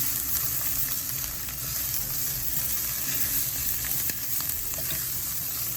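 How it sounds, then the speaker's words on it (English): Brussels sprouts sizzle steadily in a hot pan with crushed red pepper, a dense continuous crackle broken by faint scraping stirs, close and even throughout with no voices. "I'm going to sprinkle this on the vegetables and stir again."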